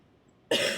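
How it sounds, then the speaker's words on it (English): A single sharp, close cough bursts out suddenly after a short stretch of quiet room tone. "That was like an actual cough."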